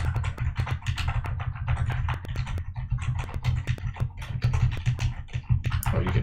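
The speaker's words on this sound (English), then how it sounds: "you can hear these keys a mashing" Computer keyboard keys are mashed rapidly during a livestream, a dense run of sharp clacks and taps over a low background hum.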